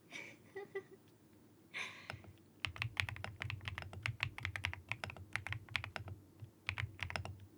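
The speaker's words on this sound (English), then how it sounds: "it's typing sound ASMR" Typing on a thocky marshmallow mechanical keyboard, a few breathy sounds first, then a steady run of close, crisp key clacks with a deeper thud under them.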